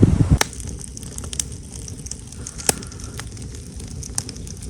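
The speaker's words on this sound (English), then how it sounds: "I got a campfire going" Small campfire on a damp, breezy trail day, crackling with scattered sharp pops and snaps over a soft steady hiss, after a brief louder rustle at the start; no one speaks.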